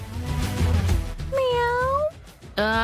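A cat gives two drawn-out, whiny meows, close and loud, after a stretch of low background voices.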